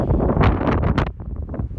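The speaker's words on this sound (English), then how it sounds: "Very windy, very windy." Strong wind buffets the microphone in a continuous rumbling roar, with gusty bursts rising and falling throughout.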